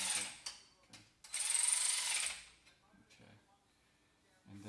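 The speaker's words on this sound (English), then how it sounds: "I'll use my ratchet. We'll tighten these down." Ratchet tightening exhaust bracket bolts on a Ferrari 430, a close run of quick clicking bursts with a longer sustained stretch in the middle, then a few shorter clicks.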